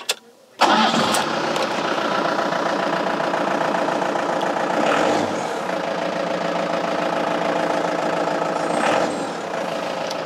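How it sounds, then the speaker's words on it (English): A car engine cranks and fires up abruptly, then settles into a steady, close idle that continues to the end. "Let's start up the engine."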